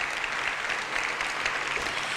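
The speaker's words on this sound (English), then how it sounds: "So let's give him a huge round of applause." An audience at an awards ceremony claps, a dense and even burst of applause that fills the short moment without any cheering or voices on top.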